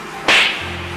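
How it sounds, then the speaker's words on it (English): A single sharp slap to someone's face, one loud crack that cuts in abruptly and fades quickly, followed by a low steady hum. "Someone slapped me in the face."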